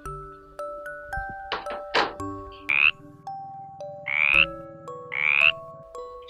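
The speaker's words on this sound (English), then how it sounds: "Frog." A frog croaks in several short, loud bursts, spaced unevenly over a bright, steady background of held musical tones.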